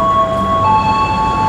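Mutiara Timur passenger train passing through Probolinggo station in East Java: a loud, close, steady rumble with sustained high whining tones.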